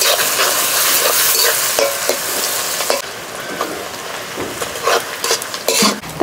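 Sliced onions fry in hot oil until brown for beresta for a mutton curry, a loud, dense hiss of sizzling with scattered clinks and stirring scrapes near the pan.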